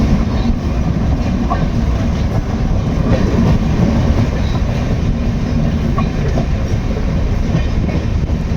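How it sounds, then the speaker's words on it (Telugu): Steady rumbling rattle of the Vivek Express passenger train heard from onboard after Kishanganj station in West Bengal, with continuous clatter of wheels on track throughout, loud and unbroken. "కిషన్గంజ్ రైల్వే స్టేషన్ దాటి బండి ముందుకు పోతున్నాను"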